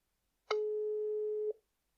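A telephone call tone sounds as a single steady electronic beep lasting about a second, clear and alone against silence.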